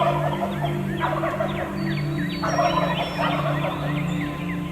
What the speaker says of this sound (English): the turkeys are yanking and cranking